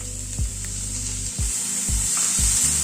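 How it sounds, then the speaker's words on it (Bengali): Red lentils fry with onion and garlic in a pan: a steady hiss of sizzling runs throughout, broken by several dull knocks of a spatula stirring at a slow, uneven pace, heard up close with no talking. "ডালটা দিয়ে ডালটাকে একটুখানি পেঁয়াজ রসুনের সাথে ভেজে নিচ্ছি।"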